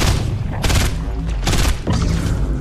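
Gunfire in Fortnite as players shoot at the cube, loud dense bursts of rapid shots in several clusters, layered with booming impacts and no pauses longer than a moment.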